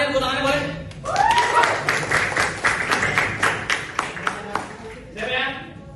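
A group of teachers in a classroom workshop claps hands, the sharp, distinct claps ringing out between bits of talk at the start and end, fairly close and loud.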